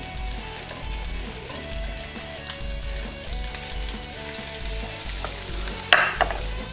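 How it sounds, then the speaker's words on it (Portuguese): Asparagus frying in butter and olive oil in a pan gives a steady, close sizzle that runs throughout, with a sharper burst of crackle near the end and no talking. "Vou colocar um pouco de manteiga na frigideira, um pouco de azeite de oliva. Vou colocar os aspargos aqui."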